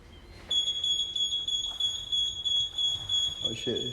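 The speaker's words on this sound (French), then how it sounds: "J'ai déclenché une alarme." Indoor smoke alarm sounding with a steady high-pitched electronic beep, starting abruptly after half a second and continuing throughout, close and loud, while people talk nearby.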